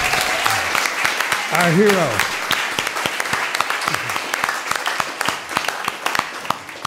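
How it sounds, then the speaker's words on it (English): A concert crowd at an outdoor show in Woodstock applauds steadily, dense clapping with a few whoops rising over it, while a voice speaks briefly near the start. "let's give a big round of applause"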